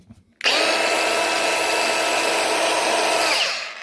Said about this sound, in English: if your grinder is making a noise, that's a good way to find out why she's doing it